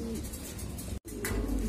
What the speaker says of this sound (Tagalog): Ito, may kalapati tayong makulit dito.